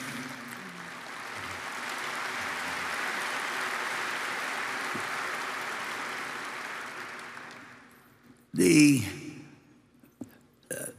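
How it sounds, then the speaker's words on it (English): Audience at a shareholder meeting breaking into sustained applause, a soft steady wash of many hands at a distance that swells and then fades out, followed by a short burst of close speech. "both of them deserve applause"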